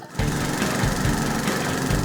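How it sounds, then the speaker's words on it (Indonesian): A water suction pump engine drains a pond in Wonogiri, running loud and steady with a rough, chugging drone that starts abruptly and holds without a break. "diperlukan alat bantu berupa mesin penyedot air"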